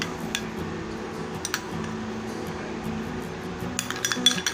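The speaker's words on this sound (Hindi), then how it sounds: "इसको अच्छी तरह से मिक्स कर लेना है।" Aloe vera massage cream is mixed in a bowl, giving light, irregular clinks and taps of a spoon against the dish over a steady low background hum, growing busier toward the end.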